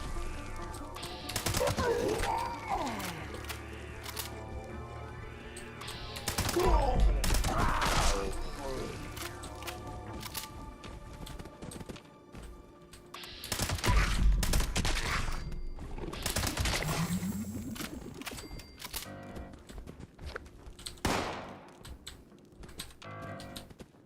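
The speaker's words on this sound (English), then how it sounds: "He's firing ineffectually at nothing." Repeated bursts of gunfire echo through Fallout 76, scattered volleys spread across the stretch with softer clatter and game noise between them.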